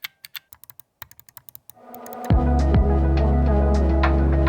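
A quick series of sharp plastic button clicks from a TourBox Elite Plus editing controller, irregular and close, followed by a loud low electronic hum that starts abruptly and holds.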